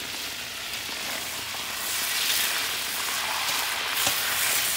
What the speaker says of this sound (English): It just give you nice, it's just frying.